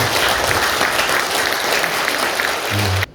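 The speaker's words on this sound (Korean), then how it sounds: "크게 박수 한번 해주시기 바랍니다." A church congregation at a pastor's installation and ordination service gives loud, sustained applause that stops abruptly at the end.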